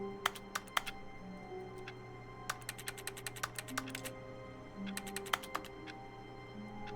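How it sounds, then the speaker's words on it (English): Keyboard keys pressed in the video game The Stanley Parable, quiet clicky taps arriving in short irregular bursts and fast runs over a low steady hum. "Oh, I can press the keys."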